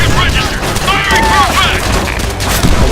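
Dense gunfire rattles in the World War II shooter game Call of Duty: World at War, loud overlapping shots and bursts filling the whole moment with no pause.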